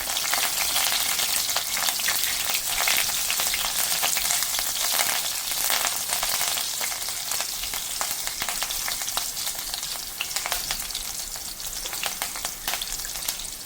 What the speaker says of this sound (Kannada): ಜೀರಿಗೆ ಸ್ವಲ್ಪ ಸಿಡಿದ ನಂತರ ಹಸಿರು ಮೆಣಸನ್ನ ಹಾಕ್ತಾಯಿದ್ದೀನಿ